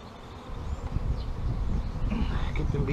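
Honey bees buzzing around hive frames as a beekeeper shakes bees off comb, a steady low drone close by with handling noise mixed in.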